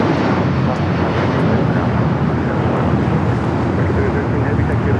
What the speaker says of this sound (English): 2113 taking off to Chicago on the 757-300